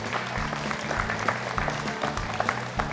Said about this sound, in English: How about a big round of applause for our senior goat showmen out here?